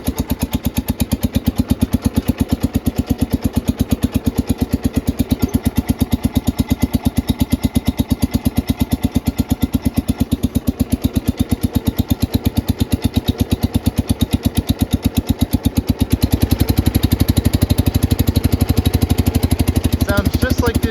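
A newly acquired Cub's engine runs steadily throughout, a loud close rhythmic putter that grows louder and heavier near the end as it is ridden off.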